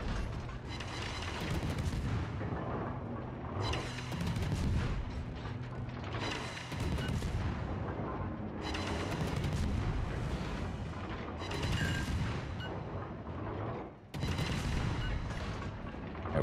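Naval guns firing in a warship video game, a series of heavy booming salvos recurring every couple of seconds, each with a long rumbling tail and mechanical clanks between.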